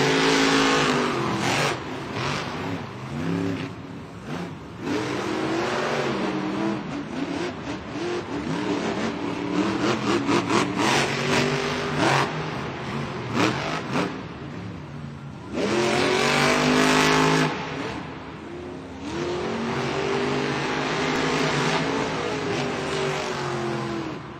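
Monster Jam monster trucks at an event in Melbourne, Australia rev their engines and race away from the start, loud sustained engine roar rising and falling in pitch over about 24 seconds amid crowd and arena noise.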